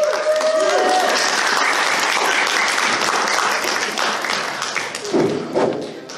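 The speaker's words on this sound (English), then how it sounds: "give a huge round of applause for AV," Loud, sustained round of applause from a comedy-show audience at IFC 2022, dense clapping with crowd noise that tapers off near the end, with a brief voice or tone early on.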